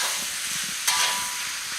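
Pork fat renders and sizzles in a hot wok for Sichuan twice-cooked pork, a steady close hiss of frying with a brief louder crackle partway through and no voices.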